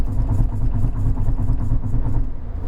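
A Kia Picanto 1.2 GT Line drives over road rumble strips on a hill climb, giving a loud, steady, rapid pulsing drone of tyres through the cabin over the engine's hum.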